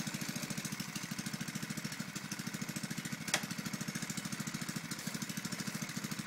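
A Baja Doodle Bug minibike's small single-cylinder engine idles while warming up after the choke is turned off. It is a steady, rapid putter with an even rhythm, nearby and moderate in level, with one brief click partway through and no voices.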